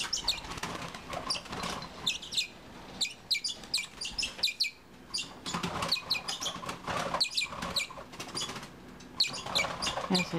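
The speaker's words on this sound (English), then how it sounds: "you're hearing some of the other birds up there flying in their cages" Small Bourke's parakeets flutter and flap their wings inside cages, producing rapid soft wingbeat bursts mixed with frequent high chirps and tweets, moderately close and continuous throughout.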